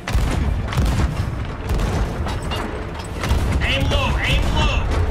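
Ship cannons firing during a naval battle in Sea of Thieves, a few heavy booms over a dense, noisy mix of game sounds with people talking throughout.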